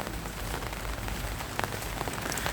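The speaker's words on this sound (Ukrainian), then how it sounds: "І дощ крапає." Light autumn rain falls steadily on a September day, heard while walking under an umbrella: a close, continuous patter with scattered individual drops ticking on top and no voices.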